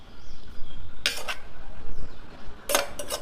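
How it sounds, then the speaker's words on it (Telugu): Roasted peanuts pounded in a stone mortar, heard as two short, bright clinking strikes separated by quiet, with a quick double hit near the end. "ఇప్పుడు ఇగో ఇవి రోట్లో వేసుకొని దంచుకున్నాం"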